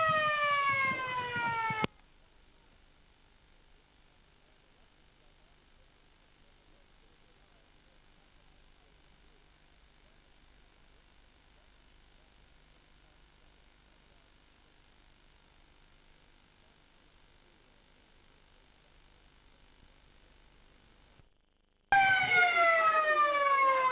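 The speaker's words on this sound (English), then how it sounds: "There's a siren for the second half of the first game" Siren at a country under-19 football match in 1984 signalling the second half, a sweeping wail at the start and again at the end with a long quiet stretch between.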